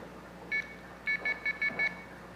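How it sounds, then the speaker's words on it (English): A payphone's coin tone oscillator signals an inserted quarter with a quick run of five short, identical high beeps, preceded by a single lone beep, clear and fairly quiet against a faint hum. "when a quarter is inserted into this payphone, the totalizer detects that, and it triggers the coin tone oscillator."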